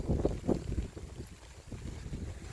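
Wind gusting across a lotus farm on a rainy day, a broad low rushing roar with buffeting against the microphone, strongest in the first second and then settling into a steadier blustery hiss.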